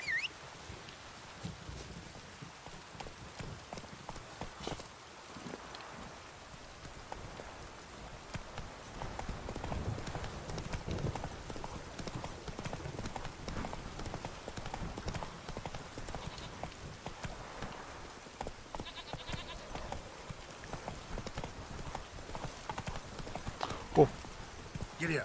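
Horse hooves clip-clop steadily on the ground in The Witcher 3 Next Gen gameplay, a faint continuous trotting patter with game ambience and occasional talk over it.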